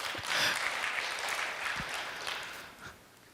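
Audience applause at a Korean lecture on the beginning and end of human history: steady, fairly loud clapping that fades slightly toward the end of the short burst, with a few claps standing out.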